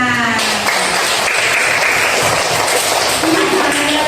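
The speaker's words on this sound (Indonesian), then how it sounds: "Tepuk tangan." Group applause during a coaching practice session, a dense, loud patter of clapping running steadily throughout, with a voice and a sustained tone briefly audible beneath it.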